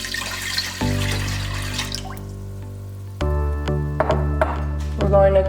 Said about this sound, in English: Have a nice big pot ready and we're going to pour about 4 cups of water, 4 to 5 cups of water.